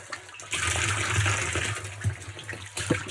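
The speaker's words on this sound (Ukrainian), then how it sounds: "В бочку набираємося із цієї скважини." Water from a borehole drilled in a basement gushes steadily into a barrel, a continuous splashing pour close by with a few louder surges, no voices.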